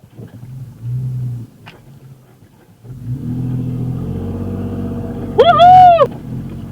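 An overland truck on a sandy track of the Namakwa Eco Trail at Die Groot Melkboom idles quietly, then its engine swells into a building, sustained rumble as it accelerates, capped by a brief high, warbling whine near the end.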